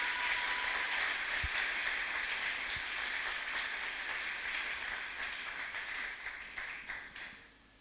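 A church congregation claps in a dense, sustained wash of applause that gradually thins and fades away to quiet.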